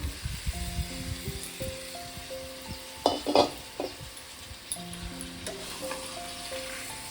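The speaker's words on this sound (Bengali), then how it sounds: "এবার আমি আলু আর চাল কুমড়ো ভাজাটা দিয়ে দেবো।" Fried potato and ash gourd pieces go into a pan of cooked spice paste and sizzle as they are stirred, with a sharper burst in the middle and soft background music throughout.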